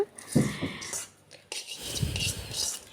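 A spoon scrapes and clinks in a bowl as tempering is mixed into ridge gourd and dried red chilli chutney, in two short bursts of close stirring.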